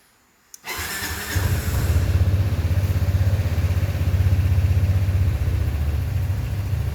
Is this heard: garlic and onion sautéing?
no